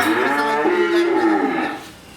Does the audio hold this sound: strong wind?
no